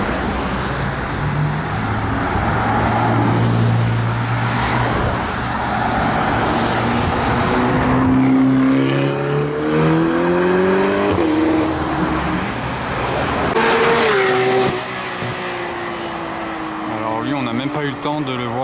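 Supercars including a Mercedes SLS Black Series and Porsche GT3 accelerate hard at the Gumball 3000 in Calais, engines rising in loud rising sweeps as they pass close by, with people talking over the roar.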